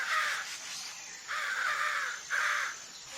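Three harsh caws from a nearby crow, evenly spaced, each lasting about half a second, against a quiet background.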